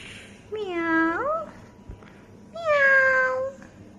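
A little kitten gives two clear, drawn-out meows in a quiet indoor room, close and fairly loud, with a short pause between them.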